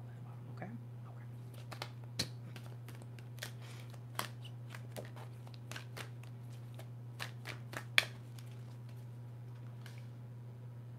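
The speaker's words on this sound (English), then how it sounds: "I'm going to shuffle 3 more times." Quick bursts of cards being riffled and shuffled, several crisp flurries at irregular intervals over a steady low hum, fairly close and quiet.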